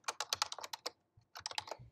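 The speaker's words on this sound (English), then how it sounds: "if I click Enter after typing their email address or their name" An email address is tapped out on a computer keyboard in two quick bursts of crisp, close clicks with a short pause between them, a final heavier key press at the end, no voices.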